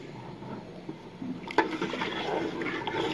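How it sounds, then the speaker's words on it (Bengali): Water pours into a cooking pot of meat with a sudden splash, then settles into a sustained gurgling stream, close and fairly quiet, with no speech. "পানি দিয়ে দিল"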